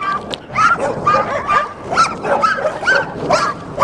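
A white dog barks in a video game, giving a run of repeated yelps and bow-wows at a steady rhythm, fairly close and loud, with no talk over it.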